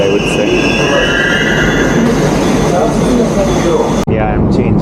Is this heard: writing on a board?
no